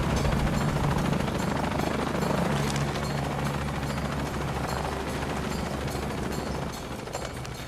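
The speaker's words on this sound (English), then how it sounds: "I'm in a chopper." Steady loud helicopter rotor chop and engine drone in the video game Shadow of the Tomb Raider, continuing without pause for several seconds, with a busy mechanical, gunfire-like clatter mixed in.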